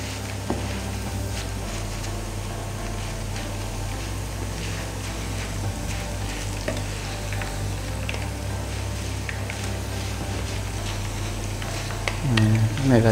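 Shredded taro fries in hot oil with a steady, dense sizzle that runs throughout, while people talk over it, and a brief burst of louder crackling comes near the end.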